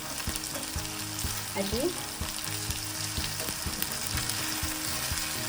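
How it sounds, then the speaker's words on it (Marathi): Paneer pieces sizzle steadily in a hot pan as they are stirred and turned over, with close scraping and clinking of the utensil against the pan. A brief spoken word sits over the continuous frying hiss. "पनीरची आपण बाजू पलटून घेणार आहे आता"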